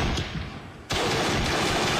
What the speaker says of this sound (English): It's like a semi-automatic shotgun.